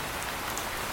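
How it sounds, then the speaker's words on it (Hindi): Heavy, steady cartoon rain pours down as a dense, unbroken hiss, loud and close throughout, with no voices. "बारिश लगातार बरस रही थी"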